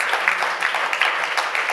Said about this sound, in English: This is your round of applause.